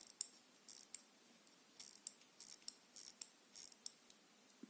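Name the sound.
hand winding a mechanical wristwatch made in India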